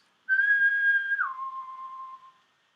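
A single clear whistled note, held steady and then sliding down to a lower pitch and sustained before fading, performed alone as a brass-playing demonstration with no talking.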